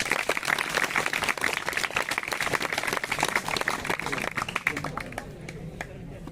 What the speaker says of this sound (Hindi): इसके लिए तालियां बजा दो इन लड़कों के लिए